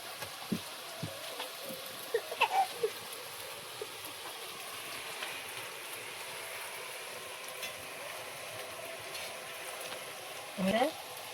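Nimki snacks fry in oil with a soft, constant sizzle, broken by a few faint clinks of utensils against the pan.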